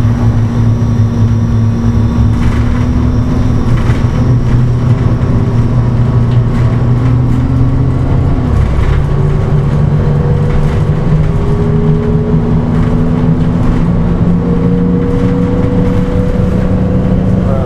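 A bus engine runs steadily while the bus drives along, a loud continuous rumble with engine tones slowly rising and falling through gear changes, heard from inside the vehicle without talk.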